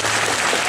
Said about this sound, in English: All right, round of applause for all those